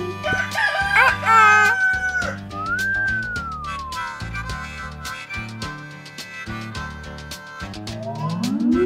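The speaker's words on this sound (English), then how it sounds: "Rooster." A rooster's crow rings out near the start of a children's counting song over a bouncy, plinking musical backing that carries on afterward.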